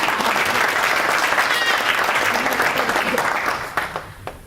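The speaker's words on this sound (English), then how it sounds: "Another round of applause for some Alvarez" An audience at a 2019 veterans event claps in sustained, dense applause that holds steady, then thins out toward the end with a few last scattered claps.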